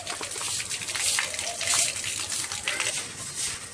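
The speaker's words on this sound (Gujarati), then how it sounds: "મમ્મી જો ઉપરથી નાખે પાણી" Water pours down from above onto dusty house walls during a home cleaning, a steady gushing splash with brief bursts, fairly close and continuous.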